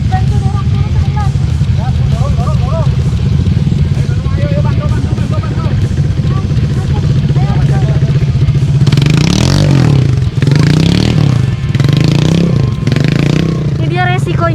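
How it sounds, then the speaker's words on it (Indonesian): A motorcycle stuck on a muddy dirt road revs loud and close, its engine straining and rising while people push it along, with scraping and clattering underneath and voices talking nearby. "Ada motor yang nyangkut, jadi kita harus bantu dorong dulu sebentar."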